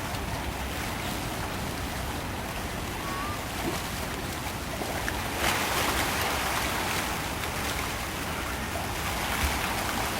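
Ocean waves wash steadily along the shore at Stanley, Hong Kong, a continuous broad surf wash with a slight swell midway and no one speaking.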